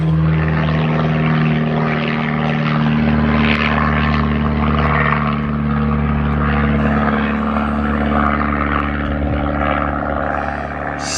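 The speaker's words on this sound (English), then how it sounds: "There's the airplane." A propeller airplane drones overhead outdoors on a gloomy, damp day, its steady throbbing engine loud and continuous with a low pulsing hum, no voices over it.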